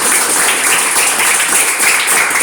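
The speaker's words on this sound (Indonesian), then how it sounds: "Ya, tepuk tangan" Youth football school students in Surabaya clap together for a national team goalkeeper, close and loud continuous applause with no gaps.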